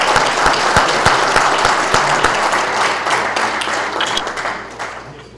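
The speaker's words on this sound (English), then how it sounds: "Can we please give Al and the organization a round of applause?" A conference audience of barbers applauds Al and the organization after a keynote tribute, a dense, loud wash of many hands clapping steadily throughout, with sharper individual claps standing out before it slowly tapers.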